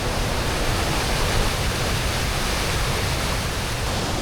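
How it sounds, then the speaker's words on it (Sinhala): Glacial meltwater waterfall on the Berg Lake hike in Canada, a steady, dense roar of crashing water that stays loud and unbroken throughout, with no voices. "මේ බහින වතුර අවුරුදු මිලියන ගාණක් පරණ ග්ලාසියර් වලින් ගලාගෙන යන්නේ දිය වෙලා"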